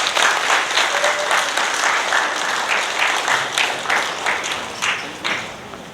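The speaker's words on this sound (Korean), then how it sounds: "박수로 모시겠습니다." Sustained applause from a seated lecture audience welcoming a district head onto the stage, dense steady clapping that thins and fades toward the end.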